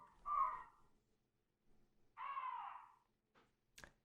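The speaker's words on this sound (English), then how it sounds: "Crows, ravens." Two harsh bird calls a couple of seconds apart, crows or ravens cawing in the video game Resident Evil 0, followed by a short click and a sharp knock in an otherwise quiet setting.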